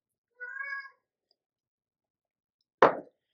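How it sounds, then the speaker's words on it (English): A single clear indoor cat meow, close and moderately loud, followed after a pause by a brief sharp knock. "And my cat is going crazy."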